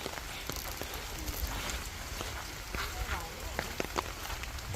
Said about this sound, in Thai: แพงต้องใส่ล่มนะจ๊ะเพราะกล้องมันโดนฝนนะเจ้า